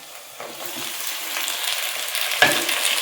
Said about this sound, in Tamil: நான் இப்போ வந்து அரை கிலோ தக்காளி எடுத்து வச்சுருக்கேன் அதை போட்டு வதக்கிறேன்